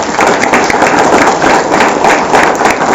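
An audience at a panel event applauds loudly and steadily, a dense wash of many hands clapping close and sustained throughout.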